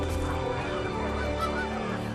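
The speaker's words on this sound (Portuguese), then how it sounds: "os gansos voltaram." Geese in the animated film The Wild Robot honk steadily in a dense, overlapping chorus, loud and close, with a low continuous rumble beneath the calls.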